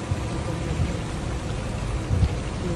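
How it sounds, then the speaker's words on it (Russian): Steady rain falls on a city street during asphalt laying, a dense broadband hiss with low rumble, close and continuous, with no voices. "рабочие укладывали асфальт прямо во время дождя"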